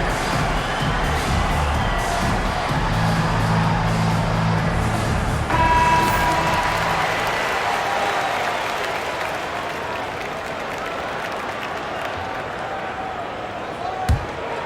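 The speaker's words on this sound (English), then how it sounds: "Nice round of applause for your 76ers" An arena crowd at a 2005 Philadelphia 76ers vs New York Knicks NBA game applauds during a timeout, a broad, sustained roar of clapping and cheering. Organ-like tones and a commentator's voice sit over it before it gradually thins.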